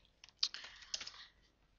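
Keys on a computer keyboard clatter in a short, quiet burst of several irregular clicks, close by and alone without talk.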